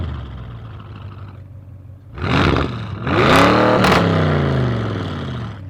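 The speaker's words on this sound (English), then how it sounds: "probably one of my favourite things about it is just the noise of it with the APR cast downpipes and the Milltek non-resonated exhaust." Audi RS7 V8 with APR cast downpipes and a non-resonated Milltek exhaust idles with a low burble, then blips sharply twice, rising to a loud rasping roar that slowly settles back down.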